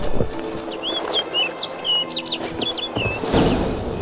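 A bird in The Witcher 3 gives a run of short, bright chirping calls over a low game ambience, then a louder burst of fluttering wingbeats as it flies off.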